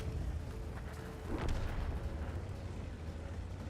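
A World of Tanks artillery shell bursts once around the middle as a muffled, distant boom, rising briefly over a steady low rumble of battle ambience.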